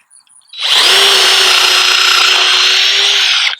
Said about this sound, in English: Just going to run that bit through